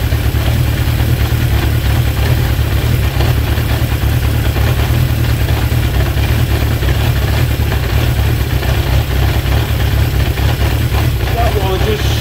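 A Honda CB750 K2 motorcycle engine idles steadily during carburettor balancing, a constant loud close rumble with even low throb throughout and no break in the sound.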